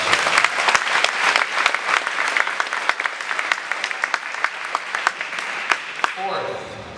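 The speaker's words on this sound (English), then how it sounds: "Let's give her a huge round of applause." Award ceremony audience applauding loudly and steadily for about six seconds, dense clapping filling the hall before it tapers off near the end.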